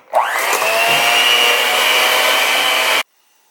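An electric mixer beats an egg into keto gingerbread batter, spinning up sharply and then holding a loud, steady, high whine for about three seconds before cutting off abruptly.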